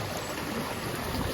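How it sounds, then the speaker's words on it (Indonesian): A small river flows beside a hiking trail on Mount Ciung, giving a steady, broadband rushing wash of water at moderate, constant level with no voices. "Ini kita ngelewatin sungai."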